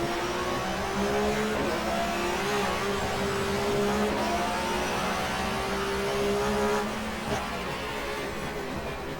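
A touring car racing engine from the 1994 German Touring Car Cup at Zandvoort in the GTR2 racing game drones steadily at high revs, with a shift in pitch as it drops gears, loud and continuous with no talk.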